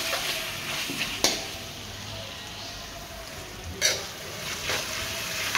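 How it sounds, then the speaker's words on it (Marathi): Ginger garlic paste sizzles in a pan over low heat while it is mixed in for a spicy chicken rassa. A soft, steady fry hiss runs throughout, with a couple of sharp spoon scrapes. "आता आपण त्यामध्ये अद्रक लसूण पेस्ट टाकूया आणि ते संपूर्णपणे एकजीव करून घेऊया।"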